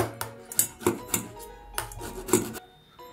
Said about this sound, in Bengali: এবার আমি মূলোগুলোকে গ্রেট করে নিচ্ছি